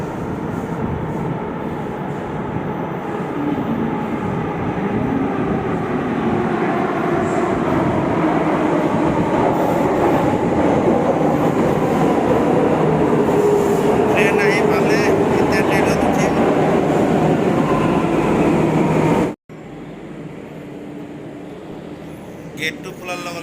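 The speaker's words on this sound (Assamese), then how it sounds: "ট্ৰেইন আহি থকা যেন লাগি আছে" A Delhi metro train roars steadily at a crowded station, a loud sustained rumble lasting about twenty seconds before dropping suddenly. A crowd murmurs beneath it.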